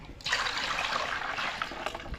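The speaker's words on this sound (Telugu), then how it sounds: "గంజలు పోస్తాను" Rice starch water is poured in a steady, splashing stream for a couple of seconds, close by, with a faint clink near the end.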